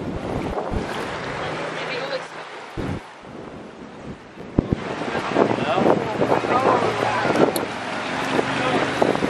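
Rushing water at Sauble Falls makes a broad, steady roar outdoors, mixed with gusting wind buffeting the microphone while people talk nearby.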